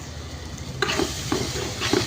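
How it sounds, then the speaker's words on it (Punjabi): Hot oil sizzles and crackles steadily close by as a tempering for dal is made, with a few soft stirring scrapes in a pan. "ਦਾਲ ਤੜਕਾ ਲਗਾ ਰਹੇ ਆ ਆਪਾਂ"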